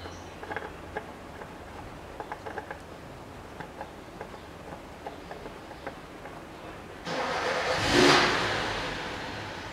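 A 2007 Chevrolet TrailBlazer 4.2 engine started after an oil change: a series of quiet ticking clicks, then the starter catches and the engine fires into a loud rev that swells and settles into a steady idle.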